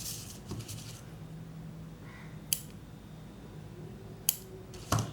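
Scissors trimming off crochet yarn from a finished mini rose, a few quiet, sharp snips spaced a second or two apart over a soft background.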